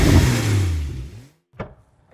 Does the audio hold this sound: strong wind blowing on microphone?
no